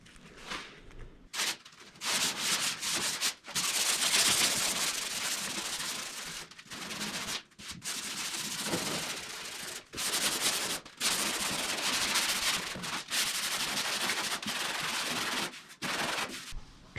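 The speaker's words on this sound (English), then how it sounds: "now I'm going to sand it with 600 grit on a little sponge here" Primer on a rusty truck bed being hand-sanded with 600-grit sandpaper on a small sponge, brisk rasping strokes in bursts with short pauses between them, close and fairly loud.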